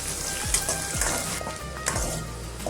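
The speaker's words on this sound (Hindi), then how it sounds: "थोड़ा सा लहसुन ऐड कर देंगे और ये प्याज भी ऐड कर देंगे। दो मिनट में फ्राई कर लेंगे।" Garlic and onion frying in a pan, a loud steady sizzle with occasional stirring scrapes and soft clanks, close up, no one speaking.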